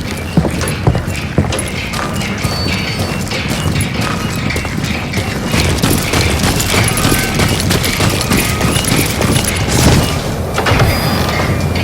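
Dense, continuous action from the western shooter Call of Juarez: Gunslinger, with loud clattering and sharp cracks layered over hoof-like clopping and crashes, a busy chaotic din running throughout without speech.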